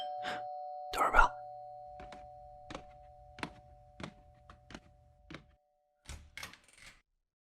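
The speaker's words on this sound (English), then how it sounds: "Doorbell." Doorbell rings with a bright electronic chime in a quiet indoor room, followed by a series of sharp knocks or thunks spaced irregularly, close and clear with no talking.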